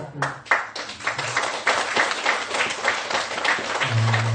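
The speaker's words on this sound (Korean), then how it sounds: "다시 한번 큰 박수로" A crowd applauds steadily at a Korean Buddhist temple dharma talk, many hands clapping in a dense, sustained burst that carries on throughout.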